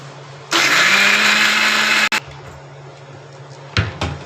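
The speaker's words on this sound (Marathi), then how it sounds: "सगळं साहित्य मी मिक्सरमध्ये बारीक करून घेणार. जास्त बारीक नाही करणार," A kitchen mixer grinder coarsely grinds brinjal-dish ingredients in a loud, steady whirring run of about one and a half seconds, cutting off abruptly, followed by quieter clatter and a knock.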